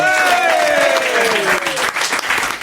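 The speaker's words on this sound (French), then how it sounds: "je vous demande de l'acclamer, de Jacques Ramade." Studio audience on a French radio show bursts into loud, sustained applause and cheering to welcome a guest, with a tonal jingle sliding downward over the clapping.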